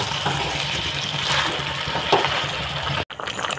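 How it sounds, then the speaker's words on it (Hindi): Water poured into a pan of potato and eggplant curry on the stove, a steady rushing pour mixed with sizzling that runs for a few seconds, then cuts off abruptly. "पानी लगा लिया है"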